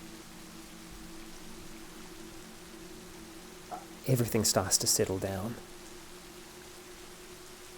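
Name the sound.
rain falling, sound effect in audio drama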